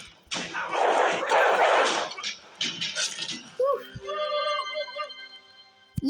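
A dog barks and yelps close by amid a burst of noise, followed by a high whining tone and a sharp knock.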